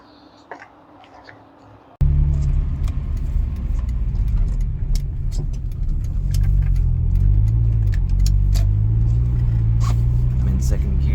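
A 2023 Acura Integra with a six-speed manual drives along a snowy, plowed road in second gear; after two quiet seconds, a steady low engine and tire drone rises in and holds loud and close to the end.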